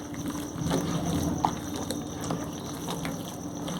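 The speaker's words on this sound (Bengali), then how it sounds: "দিয়ে দেবো অল্প জল।" A little water pours into grated radish dough for pithe, making a short splashing gush and trickle close by, with no voice heard.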